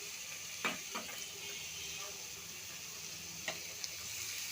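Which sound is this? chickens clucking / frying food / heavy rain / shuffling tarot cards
frying food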